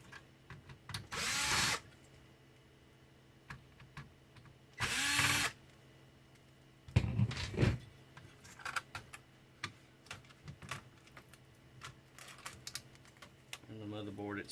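A power screwdriver backs screws out of a Dell Inspiron One 19 all-in-one computer in two short whirring bursts, followed by clicks and the rattle of parts being handled.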